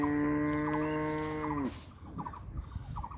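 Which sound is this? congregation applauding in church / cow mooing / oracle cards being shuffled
cow mooing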